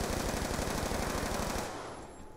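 A Death Machine minigun fires in Call of Duty zombies on the Mob of the Dead map: one rapid, unbroken burst for about a second and a half that cuts off sharply, leaving a fading tail.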